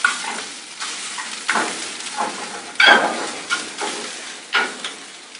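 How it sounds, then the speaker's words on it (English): Chorizo fat rendering in a pan with steady sizzling and frying, broken up by repeated stirring scrapes at a regular pace, close and fairly loud, with no talk. "once we get the fat rendered down with the chorizo, we're going to add our shrimp"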